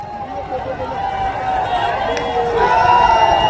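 A large crowd in Varanasi cheers and claps during a prime minister's visit, producing a loud, dense roar of voices and applause that swells steadily toward the end.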